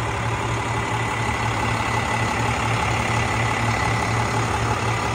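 A 2005 International 4300 medium duty tow truck with a DT466 diesel and a new turbo idles steadily, a close, even, low rumble with a constant hum and no talk over it.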